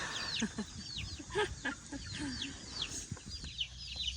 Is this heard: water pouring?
no